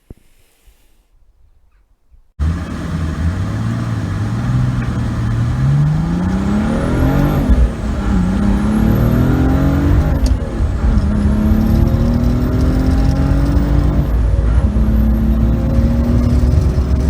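An old Mercedes W124 with the OM606 turbodiesel engine revs repeatedly close up, each rise in pitch falling back, steady and loud throughout after a quiet start, with a faint whistle of turbo spool riding over the diesel clatter.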